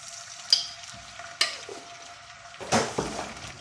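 Ginger garlic paste fries in oil with a soft, steady sizzle, broken by a few clinks of a utensil against the pan as it is stirred.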